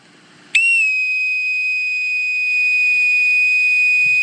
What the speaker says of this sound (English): holding the bosun's call in the proper manner